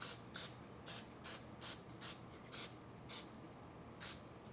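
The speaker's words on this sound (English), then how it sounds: "I'm going to go ahead and spray my loaf pans with non-stick spray" Non-stick cooking spray spritzed onto loaf pans for sourdough sandwich bread, about ten short hissing bursts in an even rhythm, close and fairly quiet, with no talking.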